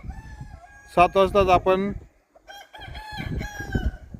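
A free-range desi rooster crows loudly and close by in a sunny morning poultry yard, followed by softer clucking of hens wandering around, while someone speaks briefly over it.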